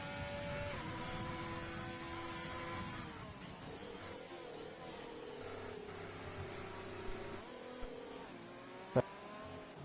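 Several racing cars in an F1 video game accelerate as the safety car pulls in at the Vietnam circuit, a dense, continuous engine roar with rising and shifting pitches, steady and loud, no speech.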